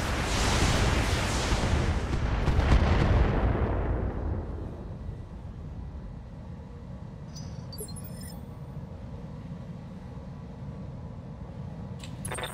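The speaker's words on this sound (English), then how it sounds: "Fire a bunker buster to the rear arc." A bunker buster missile fired from a mech in the BattleTech video game roars out as a loud, long rumbling blast that slowly fades over several seconds into a low background drone, with faint clinks near the end and no talk.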